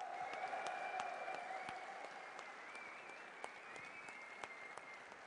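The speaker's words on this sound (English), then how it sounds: "let's give a round of applause to our first place champion, Naama!" Steady applause from an esports tournament crowd at a StarCraft 2 grand final, scattered claps blending into a continuous wash, fairly distant and soft.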